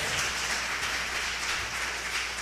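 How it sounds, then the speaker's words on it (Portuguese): A church congregation applauding, dense sustained clapping from many people that fills the room evenly and holds steady throughout, with no voices over it. "Quer dar um lindo aplauso?"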